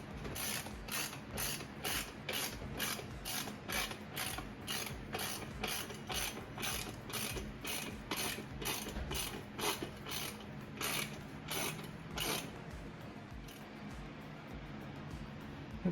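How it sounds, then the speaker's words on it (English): Ratchet tightening the rear axle on a Honda XR 150 L motorcycle, a long run of even, closely miked clicks that slows slightly toward the end. "Now I can tighten the axle"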